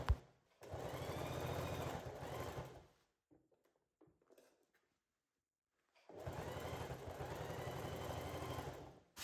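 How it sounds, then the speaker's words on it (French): A sewing machine stitching a trench coat collar to the rest of the coat runs in two steady, close bursts of fast mechanical whirring, separated by a quiet pause filled with small handling clicks. "vous allez vous rendre sur votre machine à coudre et on va assembler le col au reste du trench"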